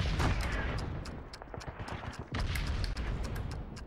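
Explosions and gunfire from Call of Duty 2: Big Red One, a World War II shooter on PS2, with repeated sharp blasts and booms over a dense, loud battle din, with no talk.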